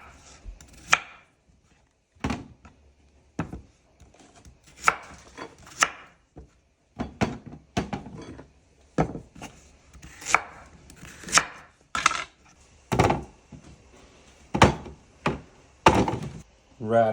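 A knife chops radish on a cutting board for pho, irregular bursts of sharp thunks and quick runs of taps separated by short pauses, close and distinct.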